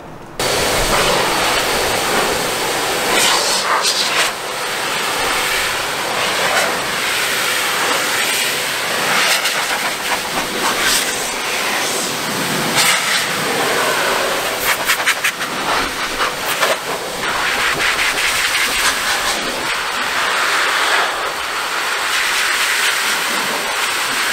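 A powerful blower dries a car after a quick detailer wash, producing a loud, steady high-pitched hiss and rush of air that continues almost unbroken throughout.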